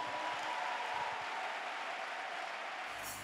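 Congregation in a church applauding during a worship service, a dense continuous patter of clapping with faint crowd murmur that holds steady before trailing off slightly at the end.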